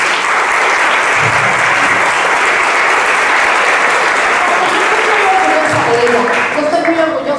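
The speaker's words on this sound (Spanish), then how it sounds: "Les pido un aplauso para mí." An audience at a civic panel on women and power applauds in a sustained, even wash of clapping, with faint voices and a brief vocal moment near the end.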